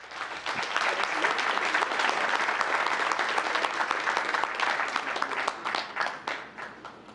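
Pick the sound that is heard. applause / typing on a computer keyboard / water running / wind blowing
applause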